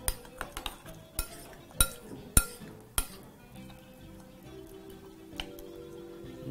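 A spoon mixes guacamole in a bowl, knocking and clinking against the rim in a quick cluster of sharp taps that thin out into softer scraping, close and crisp with no talk.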